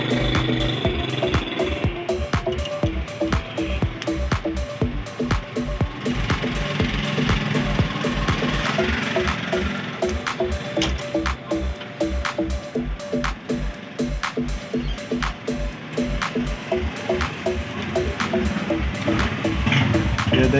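A household sewing machine runs steadily while stitching fabric to test that the bobbin thread is being pulled up, giving a fast, even mechanical clatter close by and continuing without pause for about twenty seconds.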